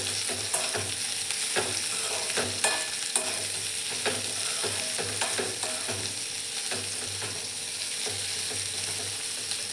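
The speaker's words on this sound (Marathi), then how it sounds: "त्यांना पूर्ण तेलात फ्राय होऊ द्यायचे आहेत." Sliced bitter gourd fries in hot oil in a pan, giving a steady close sizzle broken by repeated clinks and scrapes of stirring, with no voices.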